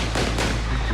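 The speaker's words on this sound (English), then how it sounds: "You can see they both move out of frame behind a car before gunshots erupt." Loud gunshots erupt from replayed footage of the Kenosha shooting, with two sharp cracks in quick succession over a heavy low rumble and no speech.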